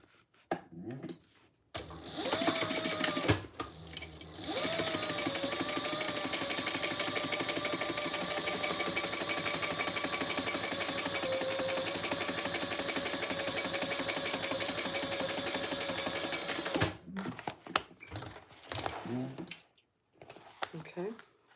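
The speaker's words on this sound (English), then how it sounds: "now we are going to top stitch on the side panels with that seam behind the side panels" A sewing machine top stitches fabric side panels with a seam behind them, running in one steady, continuous whir for about fifteen seconds. Brief pauses and a little talk come at the start and end.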